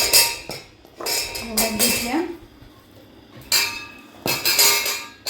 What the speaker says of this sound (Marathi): आता मी एक भांडं घेते स्टीलचं